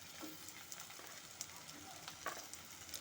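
Potatoes, carrots and beans frying in a pan, a soft, steady sizzle with light scraping clicks from stirring, heard fairly quietly.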